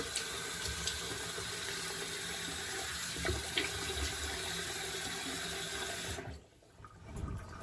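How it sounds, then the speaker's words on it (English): Tap water runs steadily into a bathroom sink while a face is rinsed after a wet shave, a loud continuous splashing rush with small spatters, cutting off near the end to a brief quieter tail. "Okay, rinse that out. Whoops. Rinse off my face."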